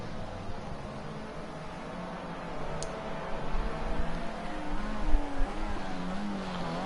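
Formula C race car in Project Cars 2 running down the Hockenheim straight, a steady engine drone climbing through the gears with a brief burst midway, under a constant hiss.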